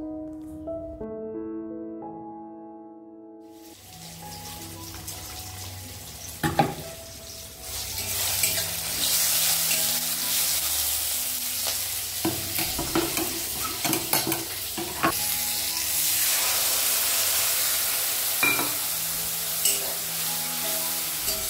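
Food frying and being stirred in a pan on a home stove while a spicy curry is cooked, a constant loud sizzle with scraping spoon strokes, following a brief musical opening.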